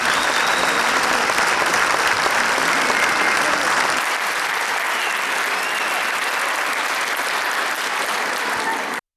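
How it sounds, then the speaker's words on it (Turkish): A full hall of concertgoers in Merkezefendi gives the performers a standing ovation at the end of a concert, a loud, sustained wash of clapping that continues unbroken and eases slightly partway through. "Salonu dolduran sanatseverler konser sonunda sanatçıları ayakta alkışladı."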